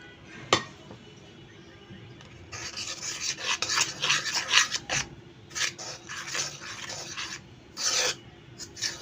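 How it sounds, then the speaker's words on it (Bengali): Flour and salt being mixed by hand into pizza dough for homemade chicken pizza, a scraping, rasping stir in bursts against a bowl, fairly close and continuous with brief pauses, no talk. "তো আটাটাকে আমি এখন ভালো করে মিক্স করে নিচ্ছি।"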